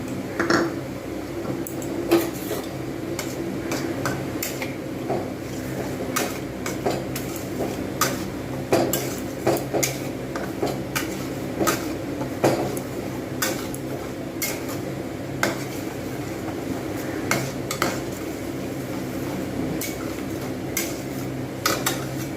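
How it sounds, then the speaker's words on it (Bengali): A pot of khoa kheer with dry nolen jaggery is stirred, giving repeated soft scraping and clinking of a utensil against the metal pot at an irregular pace, fairly close, with steady low background noise and no talk. "বেশ কিছুক্ষণ আমাকে এটাকে সময় নিয়ে নাড়তে হবে একটু গাঢ় হয়ে যাবে"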